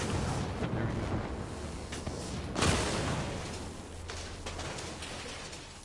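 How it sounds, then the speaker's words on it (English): A heavy explosion from the tactical shooter Ghost Recon Breakpoint swells into a loud broadband burst midway, then rolls off into a rumbling tail over a dense, noisy game background. "They definitely heard that explosion."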